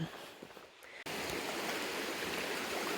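Rushing stream water at a rock-hop crossing on the Caldwell Fork Trail in the Smoky Mountains fills the scene, a steady broadband wash that jumps louder after a brief quiet stretch, close and constant with no voices.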